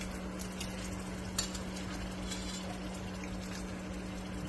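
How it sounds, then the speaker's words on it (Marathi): Fresh prawns stirred into a cooking masala, a soft, steady sizzle and wet bubbling with occasional spoon scrapes against the pan, faint and close, under a constant low hum. "आपण आता त्या मसाल्यामध्ये टाकून घेऊया."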